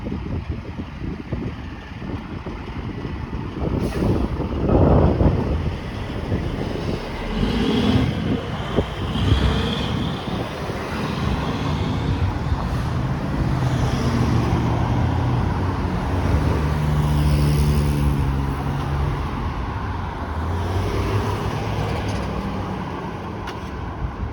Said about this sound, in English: Here comes another Nova Bus LFS, the one that is Wi-Fi equipped.